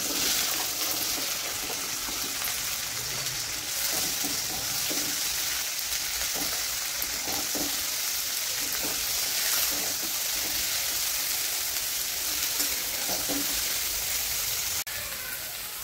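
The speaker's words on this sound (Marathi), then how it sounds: "भेंडी घेते टाकून आता." Okra frying in a pan at home, a steady dense sizzle running throughout with faint stirring scrapes and no voices.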